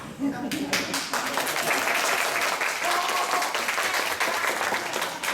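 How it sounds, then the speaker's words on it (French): An audience at a French theatrical show breaks into applause, dense clapping that starts after a brief pause and carries on loud and steady, with some voices mixed in. "Et parfois quelques applaudissements"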